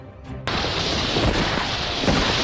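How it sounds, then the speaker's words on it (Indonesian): An explosion in a film scene, a sudden loud blast that bursts in and settles into a long, dense roaring rumble of debris and fire, with brief muffled voices just before it. "Pejuang berkuda itu lalu melemparkan peledak hingga terjadi ledakan dahsyat"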